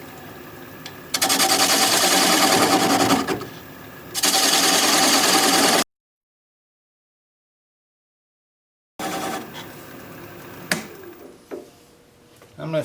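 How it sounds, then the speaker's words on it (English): A half-inch standard grind bowl gouge cutting a natural-edge maple bowl spinning on a lathe at about 500 RPM, removing the tenon; loud, steady scraping bursts broken by pauses and a stretch of silence. "we'll just take a 1/2 inch standard grind bowl gouge and we'll turn it about 500 RPM and start removing that tenon."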